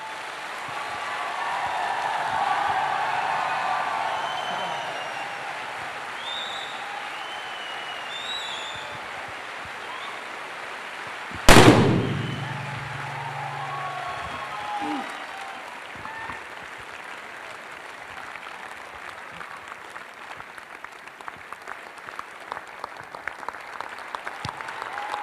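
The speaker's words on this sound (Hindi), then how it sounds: "एक बार ये तालियां मेरी माँ के लिए बजा दीजिए" Audience applause at a twelfth anniversary event of a company called Glaze, a steady mid-level clapping crowd that swells with a sharp loud burst midway, then continues as scattered, rising clapping to the end.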